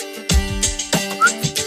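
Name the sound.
person whistling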